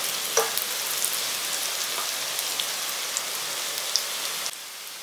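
Garlic and cashew nuts frying in oil in a pan for a pepper rice dish, a steady close sizzle with faint crackles throughout, ending slightly quieter.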